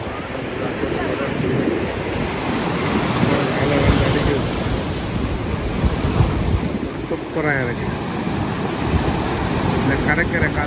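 Ocean waves break at the shore near Galle Face, a continuous loud rushing surf churning steadily under strong gusting wind buffeting the microphone, with a voice speaking faintly over it.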